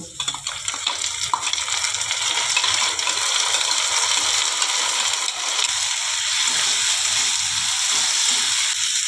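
Ginger and garlic paste sizzles steadily in a hot frying pan of oil with turmeric, a dense, close, continuous crackle and hiss that holds evenly throughout with no talking.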